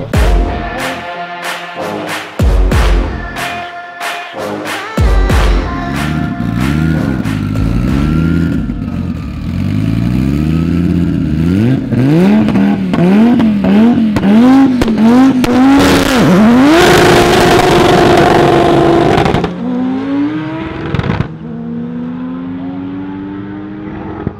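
Drag race cars at a German one-on-one drag race event, engines barking and revving near and loud, then winding up through rising gear pulls in a long, sustained acceleration before cutting off.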